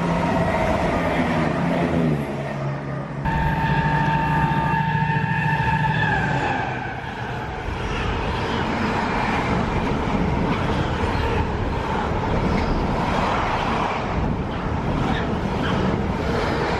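A passing train, likely a double-headed locomotive pair, revs loudly close by with a steady rumble and tonal engine drone that shifts pitch midway, alone without talk.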